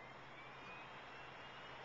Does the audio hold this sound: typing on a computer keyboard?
no